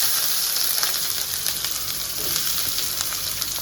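Cinnamon, cloves and cardamom sizzle in hot oil for a spicy chicken gravy, making a steady, close, bright frying hiss with small crackles throughout.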